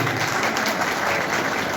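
An audience claps steadily for a doctor at a free health camp held at a community health centre, a brief dense burst of applause with no voices over it.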